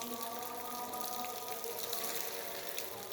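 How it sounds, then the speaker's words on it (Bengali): Water falls from a pipe fed by a rooftop tank in a steady, faint splashing stream with light dripping and a few higher tonal sounds, continuous and unbroken from start to finish. "ছাদে ট্যাঙ্কি থেকে পাইপ দিয়ে পানি পড়তেছে দেখেন"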